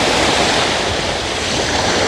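Ocean surf washes continuously close by, a loud broadband rush with some wind buffeting the microphone.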